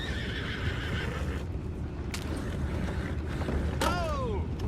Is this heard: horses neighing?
yes